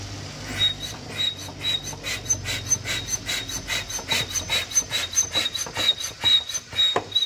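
A brake fluid bleeder sucking fluid from a BMW F10 makes a steady, rhythmic rasping and hissing suction, pulsing quickly and evenly at close range with no talking.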